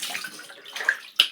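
Cool water running and splashing as a face is rinsed at home, a soft close rush of water with brief louder splashes near the end.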